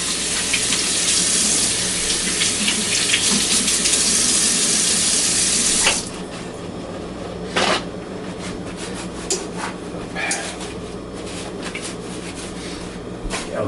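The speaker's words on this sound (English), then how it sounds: "I'll just go ahead and wash my hands here once again." Kitchen tap runs steadily for handwashing while a pork tenderloin roast is being prepared, a loud broadband rush for about six seconds that cuts off abruptly, followed by quieter clinks and handling sounds.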